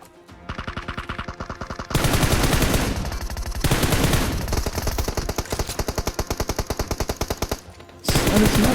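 Automatic gunfire in the PUBG Mobile battle royale game: loud rapid bursts of machine-gun shots separated by brief gaps, one long stretch of steady fire, then a final burst.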